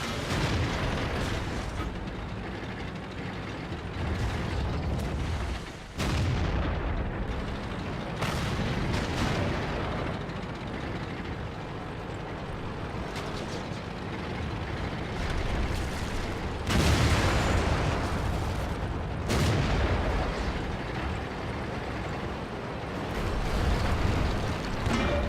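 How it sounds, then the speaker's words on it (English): Tank cannons fire in World of Tanks battle gameplay with an IS-3 and an M103, heavy booming shots and explosions rolling over a constant engine rumble, loud and continuous. "M103's taking a couple of pot shots at me"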